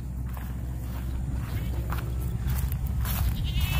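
Goats bleat a few times against steady outdoor noise and footsteps, with sheep-like cries rising toward the end while a kite made of umbrella fiber is flown nearby.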